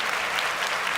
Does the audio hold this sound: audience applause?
yes